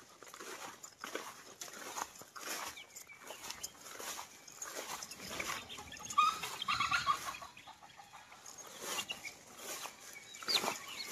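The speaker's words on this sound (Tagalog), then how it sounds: "Kaya andyan yung mga manok ko." Chickens cluck and chatter in short, scattered bursts outdoors, fairly close, with a dog-like bark or yelp mixed in and no talking.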